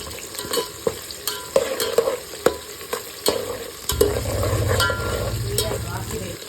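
Small onions and curry leaves fry in hot oil for a chicken curry, with sharp, repeated scraping strokes of a spoon against the pan, then a louder, steady sizzle and bubbling once stirring stops.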